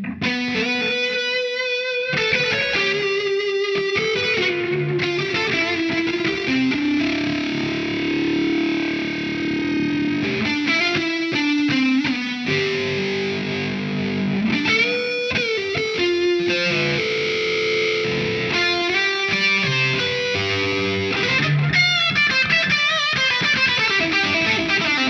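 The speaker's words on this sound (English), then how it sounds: "I'm going to turn the gate off, turn the delay back on, and let's try and get some fat lead sounds out of it." Fat, thick electric guitar lead played through a Maestro distortion pedal with delay switched on and the noise gate off, sustained notes and bends ringing loudly and continuously with echoing repeats.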